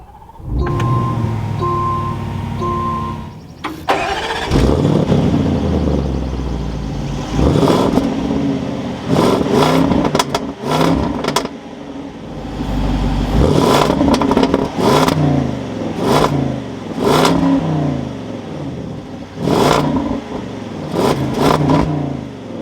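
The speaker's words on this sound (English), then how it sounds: "keeping my foot on the brake, we can go ahead and fire it up" A 2022 Land Rover Defender 90 with a V8 engine cranks and fires up, then settles into a loud idle broken by a series of sharp, repeated revs, each rising and falling back, with no talking.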